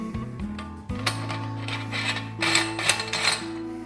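A metal nut is threaded onto a Gvode food grinder attachment, giving close, rasping, ratcheting metal-on-metal turns and clicks that come in a few uneven bursts, with no voices.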